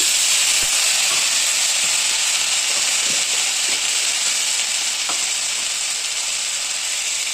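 Turmeric powder and spices frying in a pan give a steady, fairly loud sizzle and hiss throughout, with a few soft stirring clicks and taps.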